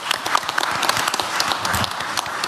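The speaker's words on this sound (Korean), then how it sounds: "지금 박수를 칠까요?" A meeting audience gives brief, steady applause, with many hands clapping close together and no talking.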